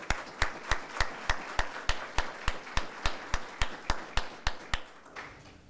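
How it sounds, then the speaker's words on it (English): A small audience gives a round of applause at a STEM workforce development forum, with about eighteen evenly spaced, distinct claps that dominate the sound and fade out near the end. "So let's give them a round of applause."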